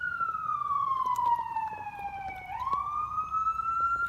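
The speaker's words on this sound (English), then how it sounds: "there goes the ambulance" An ambulance siren wails past, a clear tone that sweeps down then rises again as the vehicle goes by at moderate distance, over faint street background and no talk.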